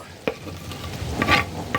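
A pot of stuffed-pepper sauce with sugar and basil sizzles and bubbles on the stove, with a stirring clatter and a brief sharp knock, heard up close and alone.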